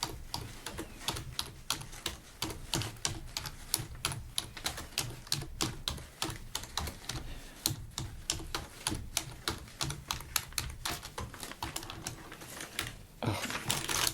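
Dirty, crumb-covered computer keyboard being typed on steadily and closely, a continuous run of crisp, rhythmic key clicks with no talking.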